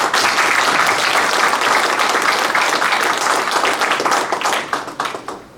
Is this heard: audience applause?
yes